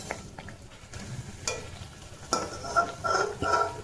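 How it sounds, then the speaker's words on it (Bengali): Pitha made from a batter of milk and flour frying in a pan, a light sizzle broken by clinks and scrapes of a utensil against the pan, close and moderately loud with no talking. "এটা ভাজা হচ্ছে, আর এখনো এতটা গোলা বাকি আছে, তো আস্তে আস্তে করে ভাজি"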